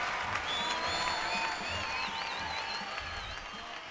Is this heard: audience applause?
yes